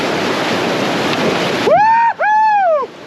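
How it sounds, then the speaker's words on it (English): Rushing whitewater from river rapids roars steadily while floating bikes downriver on a bikerafting trip, then drops off as a high voice lets out two long rising-and-falling whoops over the water noise. "We're floating our bikes down the river."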